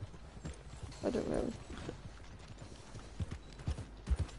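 Horse hooves clip-clopping in the video game Red Dead Online, soft irregular thuds from a nearby trotting horse over quiet game ambience, with a short creak or rustle partway through.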